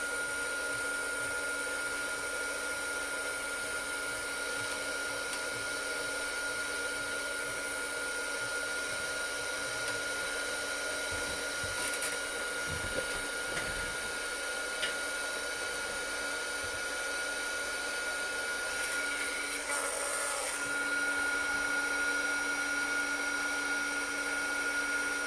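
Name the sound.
heat gun melting embossing powder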